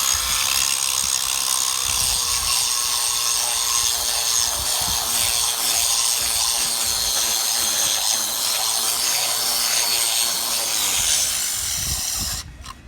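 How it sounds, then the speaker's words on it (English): A power tool cuts into a concrete seawall to reach rust beneath the surface, giving a steady, loud abrasive grinding hiss that holds for about eleven seconds before winding down. "cut into the concrete slightly to get beneath the rust before we put our rust inhibitor on here"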